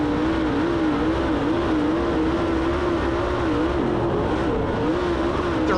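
Race cars accelerate at the start of a Friday night preliminary race on a cold track, a loud, sustained engine roar with wavering pitch as the pack surges away.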